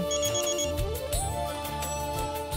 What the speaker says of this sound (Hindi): ये तो रागिनी का फोन है।